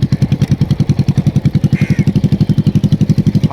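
A motorcycle engine at a riding school chugs loud and close in a steady, fast pulsing rhythm as the throttle is eased up slightly, holding an even beat throughout.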